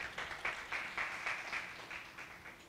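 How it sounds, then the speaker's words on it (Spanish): Faint, rhythmic applause from an audience welcoming a doctor to the stage at a hospital pediatric event, with evenly spaced claps heard at a distance. "Con este fuerte aplauso"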